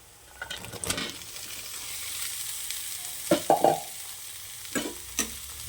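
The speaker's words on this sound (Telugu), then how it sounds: "వేసి బాగా కలుపుకోవాలి తర్వాత మూత పెట్టి ఫైవ్ మినిట్స్ ఉడికించుకోవాలి" Chopped ivy gourd pieces are stirred in a pan over a steady low frying hiss, with several close, sharp scraping strokes of the spoon clustered near the end.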